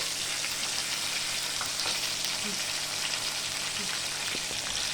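Chicken sizzles and fries in a hot pan, a continuous close crackle and hiss with occasional pops, heard alone at a steady level.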